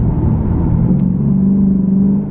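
A 467 hp Lexus RC F under acceleration in manual paddle-shift mode, its engine a deep rumble that swells and rises in pitch steadily from inside the cabin, with no speech.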